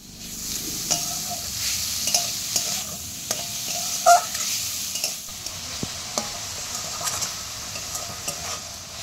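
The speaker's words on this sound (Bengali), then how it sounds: "নারকেল কোড়ার সাথে আখের গুড়টা একটু ভালো করে খুন্তি দিয়ে নেড়েচেড়ে মিশিয়ে নেব" A spatula stirs grated coconut and cane jaggery in a pan, giving a steady sizzle broken by regular light scrapes and taps against the metal, with no voices over it.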